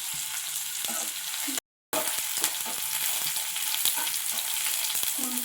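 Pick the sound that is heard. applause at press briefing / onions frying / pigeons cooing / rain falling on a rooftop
onions frying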